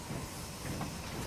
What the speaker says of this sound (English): Warrior rolled across the mud to couple up to its train of wagons.